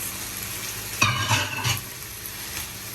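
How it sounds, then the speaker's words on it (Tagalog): Cabbage, celery, carrots and green onions for chow mein stir-fry in a hot pan: a soft constant sizzle, broken by a burst of loud tossing and scraping, then settling back to a quiet hiss. "Add na rin natin yung ating green onions."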